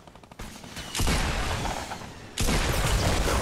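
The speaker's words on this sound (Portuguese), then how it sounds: "Mais um tiro nele. Dei muita bala." Bursts of rapid gunfire in the video game Fortnite crackle in loud, dense volleys, with a short pause between the barrages and a few sharper isolated shots at the start.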